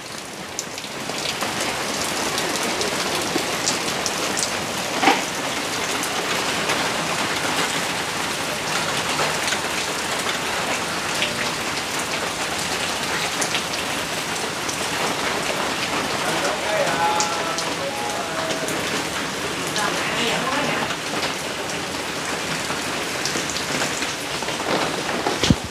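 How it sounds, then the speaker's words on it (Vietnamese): Rain falls steadily on surfaces around a house on a stormy day, a dense, even patter that holds loud and unbroken throughout with no pauses and no clear voices. "Ngày mưa gió ở nhà của Dung."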